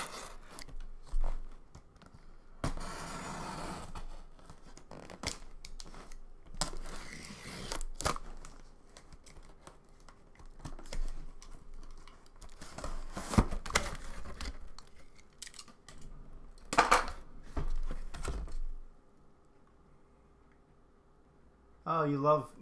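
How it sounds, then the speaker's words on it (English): A utility knife slices open a cardboard package, the cutting, tearing and crinkling coming in intermittent close bursts between quieter stretches, with a person talking. "I got a sharp, well, utility knife. I'm going to cut this open."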